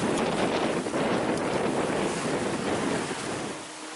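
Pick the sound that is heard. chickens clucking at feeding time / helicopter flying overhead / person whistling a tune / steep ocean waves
steep ocean waves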